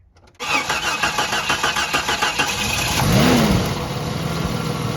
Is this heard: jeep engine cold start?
yes